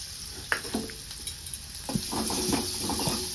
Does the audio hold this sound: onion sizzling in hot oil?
yes